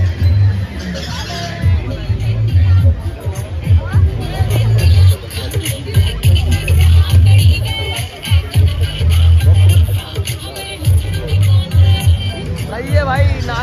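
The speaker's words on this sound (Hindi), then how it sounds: "अब बड़ी भीड़ है भाई यहाँ पे" Crowd hubbub at a busy street spot, dense overlapping voices and chatter filling the scene with low rumbles and occasional bangs, loud and close throughout.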